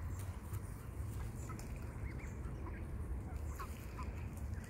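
Faint duck quacks come and go over a low, steady background rumble, a few scattered calls at moderate distance, with coots nearby.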